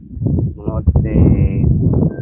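Bulls brought to an open-ground bullock cart race near Kharsundi, Atpadi: a loud, close low bellow or moo rises over outdoor crowd noise, with voices talking throughout.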